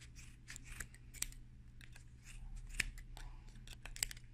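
Scissors snip through yarn wound on a pompom maker, a series of quiet, crisp cuts in an uneven rhythm, close up with no talking.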